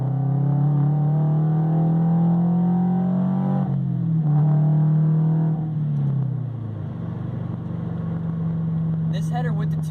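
A Subaru BRZ fitted with a Borla unequal length header pulls in third gear around 4,000 RPM, its exhaust giving a loud, steady droning burble that dips in pitch a couple of times before settling into a lower hum.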